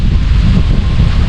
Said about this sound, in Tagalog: sarap ng hangin, oh